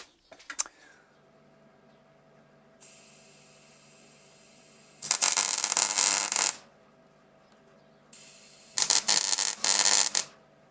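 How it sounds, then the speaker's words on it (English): A MIG welder lays beads on the metal frame of a van step, producing two close, crackling, sputtering bursts of a second or more each, separated by a quiet stretch with a low background hum. "as long as I use plenty of welding wire. So that is what I'm now going to do"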